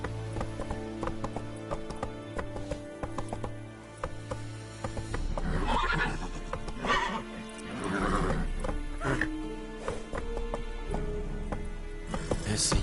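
Roach the horse gallops in The Witcher 3 with rapid hoofbeats and loud whinnies, amid game music and a few spoken lines.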